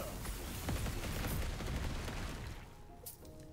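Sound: spell explosions, from Last Epoch video game

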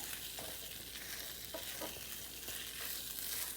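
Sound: mixing jaggery and flaxseed in a hot pan with a spatula

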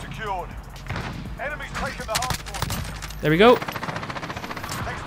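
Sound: Kilo 141 gunfire from video game Modern Warfare

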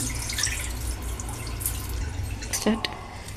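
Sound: water pouring while washing leafy greens

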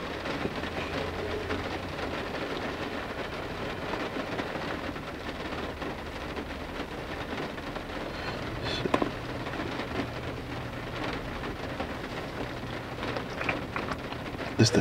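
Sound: rain falling

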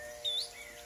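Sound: birds singing outdoors

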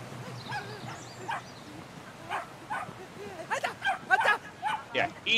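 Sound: dog barking and biting in Brothers: A Tale of Two Sons video game

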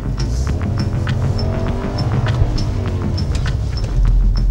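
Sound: Infiniti Concept Vettel car driving and accelerating on track

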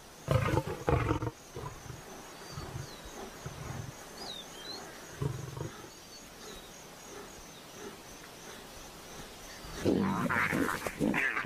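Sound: lioness roaring in rage

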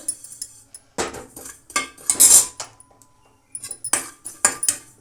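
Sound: roasting poppy seeds in a pan

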